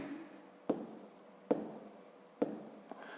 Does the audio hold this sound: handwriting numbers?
yes